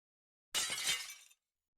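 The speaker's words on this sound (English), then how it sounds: "we're listening for the glass sound" Glass shatters in a match-3 video game as a bright, crisp burst of breaking and tinkling shards, lasting under a second and heard alone against silence.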